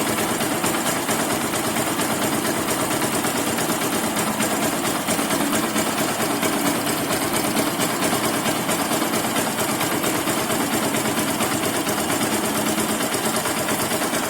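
A motorcycle engine runs at a steady idle while a spark plug cap is checked for a fault, making a constant close mechanical hum and rattle with no breaks.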